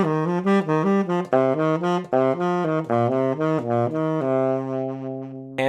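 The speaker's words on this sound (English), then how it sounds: "One of my favorite pentatonic ideas sounds like this." An improvised pentatonic phrase over a chord progression, heard as a clear run of pitched melodic notes moving quickly up and down before settling on a held tone, played alone without speech.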